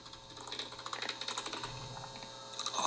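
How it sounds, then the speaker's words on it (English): Rapid typing on a computer keyboard patters in uneven bursts of crisp keystrokes, close and steady throughout, with no voices heard. "Let me finish typing"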